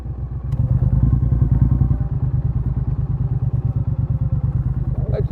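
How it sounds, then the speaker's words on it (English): A motorcycle rumbles along with a rider and pillion passenger near Alresford in Hampshire, a loud close engine thrumming with steady rapid pulses throughout. "Motorcycle."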